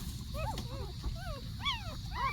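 A litter of puppies whimpers and yips close by, several thin, rising-and-falling cries in quick succession over a low background rumble.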